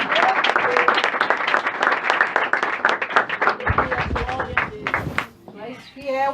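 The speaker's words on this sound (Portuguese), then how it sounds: "As palmas ao Senhor." A church congregation claps steadily and rhythmically while a voice keeps speaking over the applause, which fades toward the end.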